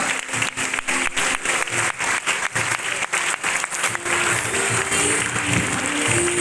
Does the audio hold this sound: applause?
yes